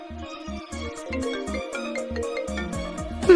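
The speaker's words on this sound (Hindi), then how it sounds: "लगता है तुम्हारा फोन बज रहा है।" A mobile phone ringtone plays a steady, repeating melodic tune, loud and clear throughout a Hindi-dubbed drama scene.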